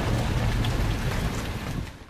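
Steady rain pours in the Gears of War video game, a dense, even wash of droplets with a low rumble beneath, fairly quiet and fading slightly at the end.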